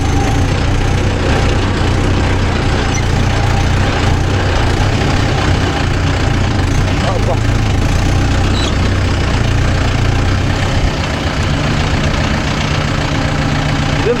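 A Mahindra Yuvo Tech Plus 585 4WD shuttle-gear tractor runs in third gear with a 42-blade rotavator, its engine a steady, loud, low rumble that holds unbroken throughout with a faint mechanical knock.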